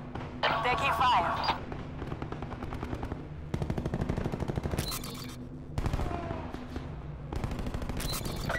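Rapid, loud bursts of gunfire from a Paladin sniper rifle in a video game, cracking out in several clustered volleys with short gaps, while voices chatter over the shooting.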